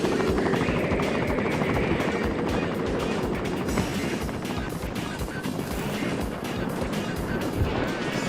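Video game helicopter in Cool Boarders 3 at the Avalanche course, a loud steady rotor whir with dense low thumping that holds throughout, with a mixed game soundscape and a voice talking over it.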